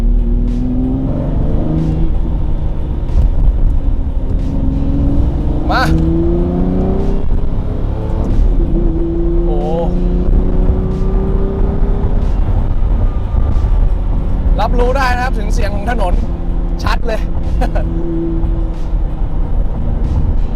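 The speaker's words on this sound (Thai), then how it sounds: "ได้ยินแต่เสียงท่อ" A loud, continuous engine and exhaust note from a Lamborghini Murcielago with a single-clutch paddle-shift gearbox, rising and falling in pitch through gear changes over about twenty seconds.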